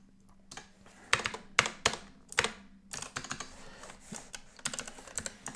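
Keys clatter on a computer keyboard as code is typed for a C# programming lesson, coming in quick irregular bursts of clicks with brief pauses, close and moderately loud, with no talking.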